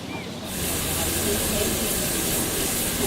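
Shallots and butter sizzle loudly in a hot pan alongside veal searing at high heat, a steady broad hiss that swells up after a brief quieter start and holds close and constant.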